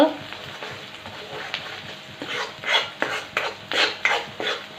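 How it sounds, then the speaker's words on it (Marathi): Onion is stirred and sautéed in a pan, with a soft sizzle and a run of rhythmic scraping strokes that grow louder and quicker toward the end. "आपल्याला करपून द्यायचं नाही फक्त असं एकसारखं हलवत कांदा थोडासा परतून घ्यायचा"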